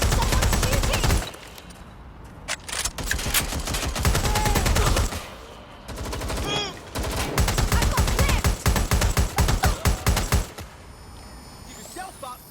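Gunfire in the video game Watch Dogs Legion breaks out in loud, rapid automatic bursts and single shots in several clusters, with short lulls between them and voices heard during the action.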